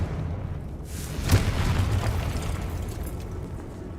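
A Confringo fire spell in Hogwarts Legacy bursts with a single muffled boom about a third of the way in, then rumbles and fades under steady game ambience.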